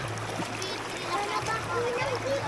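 Water splashing and sloshing at a stream's edge as clothes are washed, with a steady low hum and children's voices chattering nearby.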